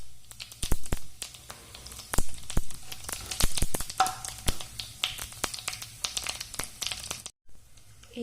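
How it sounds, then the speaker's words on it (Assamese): Spices drop into hot oil in a wok and sizzle, with sharp crackles and pops scattered over a soft, continuous frying hiss, close and fairly quiet. "কেৰাহীখনত দিয়া তেলখিনি অলপ গৰম হোৱাৰ পাছতে মই তাত এইকেইটা দি দিছোঁ।"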